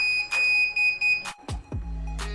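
A CCTV recorder sounds its alarm for a hard-drive error: a sustained high electronic tone broken by a few sharp clicks and short bursts, close and fairly loud, with no speech.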